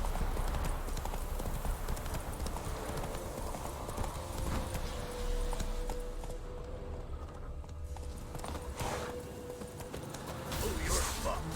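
Roach the horse trots in The Witcher 3, a steady clip-clop of hooves running throughout, with a brief whinny and game voices talking over it.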